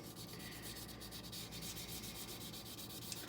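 Sandpaper of 4000 grit wet sands the primer coat on a car body, a close, steady back-and-forth rasping rub that continues without a break.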